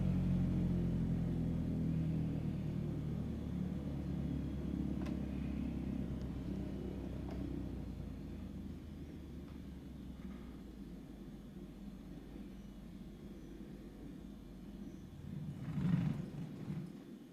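Cessna 152 engine idling at 1000 RPM in a flight simulator, a steady low rumbling drone with a faint throb that eases slightly in level over time, no talk.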